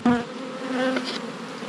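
Honey bees buzz steadily around an open hive during an inspection, a dense, continuous drone close by with no talking.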